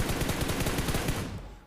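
Rapid automatic gunfire in the video game BGMI, a loud continuous burst of closely spaced shots that cuts off near the end of the clip.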